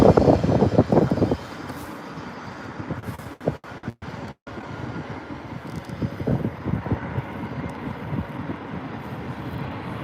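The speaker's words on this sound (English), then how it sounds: "British Airways A380 from San Francisco." A British Airways Airbus A380 arriving from San Francisco at London Heathrow gives a steady, broad jet roar, loud and near, with wind buffeting the microphone and a brief dropout midway.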